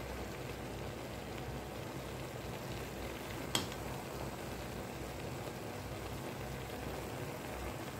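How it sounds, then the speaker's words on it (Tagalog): Pansit bihon rice noodles cooking with vegetables in a pan give a steady, close, even sizzling hiss that runs unbroken throughout, with one brief sharp clink near the middle and no voices. "Antayin na lang po natin siya hanggang sa maluto yung ating pansit bihon"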